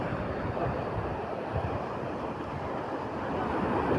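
Ocean surf rolls in at Someshwar Beach near Mangalore, a dense, constant roar of breaking waves mixed with wind rumble, no voices.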